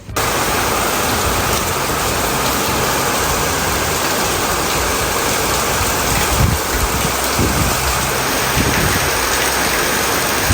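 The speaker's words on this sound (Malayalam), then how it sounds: "ഞങ്ങൾക്കിതിവിടെ നല്ല സൂപ്പർ മഴ കേട്ടോ." Heavy rain pours down in a dense, unbroken hiss for the whole stretch, loud and close, with no voices.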